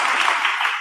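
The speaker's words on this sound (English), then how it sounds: "Give that lady a round of applause." Brief burst of audience applause at a county Democratic club's general meeting, a dense, steady patter of many hands clapping at once, fairly close and without talk.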